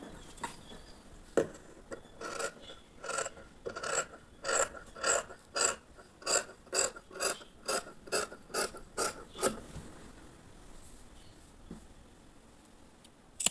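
Scissors snip through blouse sleeve fabric during tailoring, a run of about a dozen crisp, evenly spaced rasping cuts at close range, with no talking.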